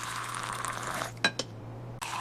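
Milk is poured into a glass in a kitchen as a steady liquid trickle, followed by two sharp clinks of glass and a brief pause before the pouring sound resumes.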